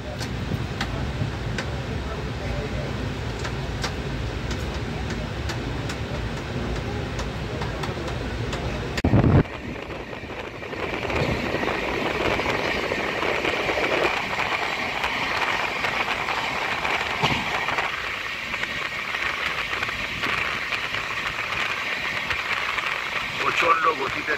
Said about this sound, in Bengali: প্রচণ্ড গতিতে ট্রেন চলেছে।